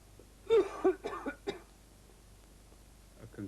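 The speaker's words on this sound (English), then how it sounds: "A self-congratulatory cough." A few short coughs close by, a quick cluster of three or four, then quiet room tone.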